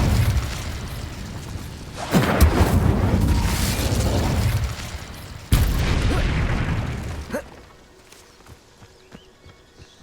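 Incendio fire spell blasts in Hogwarts Legacy land as two sharp, loud booms, each followed by a crackling, rumbling burst of fire that fades out, with no voices.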